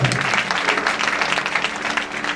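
A church congregation applauds in a sustained, dense patter of many hands clapping together, loud and close, holding steady throughout with a little crowd murmur mixed in.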